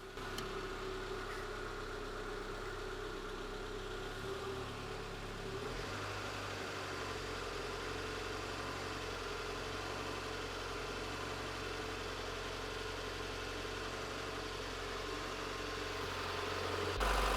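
A Renault Clio 1.2 16v engine held at about 1500 RPM during a coolant flush, producing a quiet, steady mechanical hum with faint vibration and no voices.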